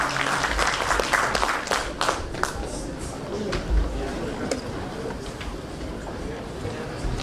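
Applause from a concert audience at a jubilee concert in Voloca, with broadband clapping early that fades into a lower crowd murmur and scattered claps, steady and moderately loud.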